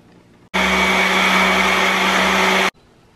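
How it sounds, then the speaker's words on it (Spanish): A blender whirs loudly and steadily for about two seconds, blending ingredients for mole verde, starting and stopping abruptly, with quiet before and after. "vamos a licuar estos otros dos ingredientes"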